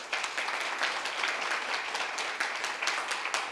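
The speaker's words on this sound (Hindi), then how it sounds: "तालियां इनके लिए, बहुत अच्छा।" Audience applause at a Hindi-language training session, a steady wash of many hands clapping throughout at moderate loudness, with no talk over it.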